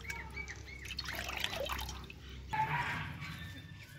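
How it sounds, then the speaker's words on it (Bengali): Water squeezed out of chhena cottage cheese by hand through a cloth towel, dripping and trickling close by into a vessel in soft irregular splashes, with faint background sounds and no talking. "দিয়ে আমি ছানাটা ভালোভাবে নিচড়ে জলটা বের করে নিব।"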